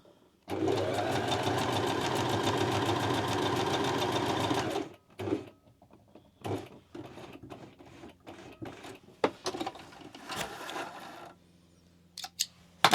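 A sewing machine runs gathering stitches on black fabric in one loud, steady burst of about four seconds, then stops, followed by scattered clicks and handling noises.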